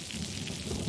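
Steady heavy rainfall with a rolling rumble of thunder, a dense wash of noise that holds constant and close throughout with no voices.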